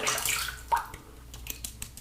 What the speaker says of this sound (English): So I'm just adding water